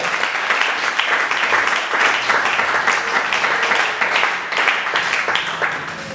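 A church congregation breaks into sustained, dense clapping and cheering that fills the hall at an even loudness for several seconds.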